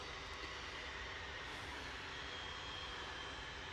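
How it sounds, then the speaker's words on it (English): Cessna Citation business jet at Manchester Airport starting to move, heard as a steady broadband engine roar that holds loud and even throughout, with no voices. "It looks like the Cessna Citation is finally on the move."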